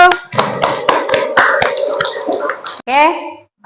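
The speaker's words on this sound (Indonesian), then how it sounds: "Oke, tepuk tangan dulu." A classroom of students clapping hands in applause, a short burst of mixed claps close by with voices talking over and around it.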